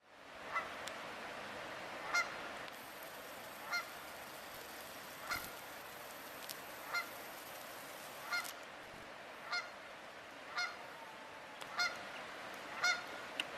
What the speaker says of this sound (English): the Canadian geese start coming in here and hanging out